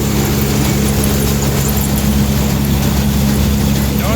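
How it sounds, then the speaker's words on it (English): A silage blower with beaters feeding chopped crop up into a silo gives a loud, steady mechanical drone with a constant low rumble and dense broadband whoosh and no break. "Which then pulls it up into the beaters, which in turn feeds it into the blower."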